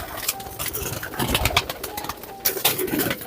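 Spotless Lucknow-breed pigeons coo and flutter close by in a loft, with soft repeated coos and rustling wing flaps throughout.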